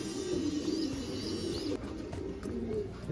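Young racing pigeon of a champion bloodline cooing softly in its loft, a few low repeated coos with faint chirps over steady background noise.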